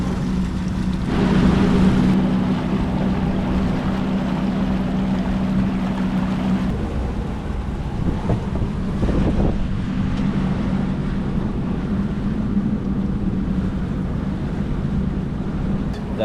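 Motorboat cruising across flat Miami bay water, a steady engine drone under constant wind rush against the microphone, close and loud throughout.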